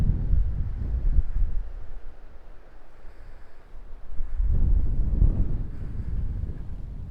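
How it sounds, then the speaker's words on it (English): Steady wind buffets the microphone at a coastal point, rumbling low and loud. The gusts swell near the start and again in the second half, and no one speaks. "There's always wind here though."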